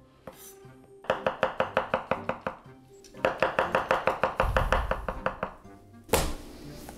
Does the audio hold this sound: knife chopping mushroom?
yes